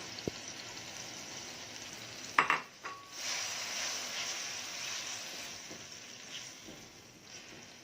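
Shrimp seasoned with salt, lemon, garlic, cumin and fish spices go into hot oil: a sharp clink of a pan, then a soft steady sizzle that stays quiet and close, fading slightly toward the end.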